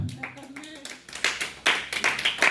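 A church congregation at a conference in Paris breaks into applause, scattered claps starting softly and swelling into fuller, louder bursts of clapping, with a voice speaking at the start.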